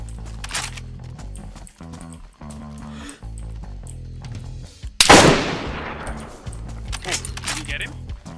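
Video game gunfire from a military shooter, several sharp, loud single shots and one close blast ringing out amid in-game sounds, with people talking over it.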